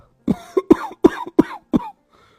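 An elderly man coughs in a quick series of five or six rough, throaty bursts, close up, then falls quiet.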